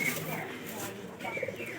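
Pigeons coo softly inside a pigeon house where pigeon chicks are kept, a few brief low calls and faint chirps close by, mixed with light background noise.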